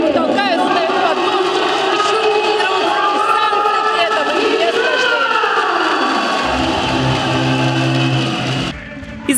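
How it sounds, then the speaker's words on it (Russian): A packed ice arena during a Russia versus USA hockey game, thousands of fans producing a loud, continuous roar with rising tonal chanting that gives way to low engine-like drones near the end. "Из оглушительного рева болельщиков меня не было даже слышно"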